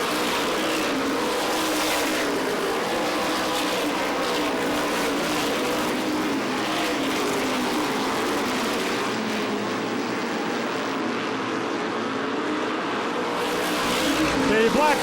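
Modified race cars from the True Value Modified Racing Series roar around Star Speedway in a dense, continuous wall of engine noise, with an announcer talking over the loud field.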